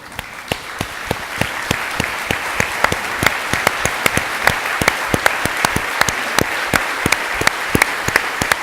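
An audience at an author talk applauds for standing veterans, with individual claps distinct and rhythmic over a steady wash of clapping, close and fairly loud.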